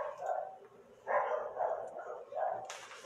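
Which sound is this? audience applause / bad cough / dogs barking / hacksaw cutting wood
dogs barking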